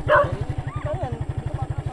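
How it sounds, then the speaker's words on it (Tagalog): A motorcycle carrying three riders putters along with a rapid, regular engine pulse throughout, close and steady, with a brief louder burst at the start and a dog barking faintly nearby. "tara, tatlo tayo dito sa motor"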